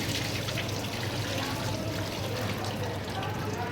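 Water is poured over sushi rice in a bowl while it is washed, making a continuous splashing trickle at close range. Someone talks faintly underneath.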